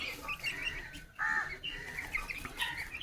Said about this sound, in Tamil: அந்த ஒரு கோழி மட்டும் ஃபுல்லாகவே உள்ளே கடந்து சவுண்டு போட்டுட்டு கிடாக்கு